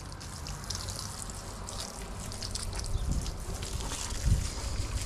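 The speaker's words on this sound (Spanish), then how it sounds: "otro poquito de agua, sin presión." Gentle, unpressurised water rinsing an electric bike with a Bafang 250W motor, a continuous splashing and trickling wash with a couple of heavier low thumps near the end, no one speaking.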